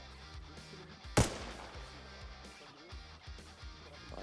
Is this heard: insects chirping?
no